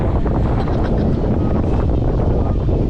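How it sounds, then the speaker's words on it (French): Strong wind buffets a microphone on a boat outing near Heraklion, Crete, a loud continuous low rumble and roar without a break, with faint water and boat noise beneath. "Ouah, comment le vent il nous pousse."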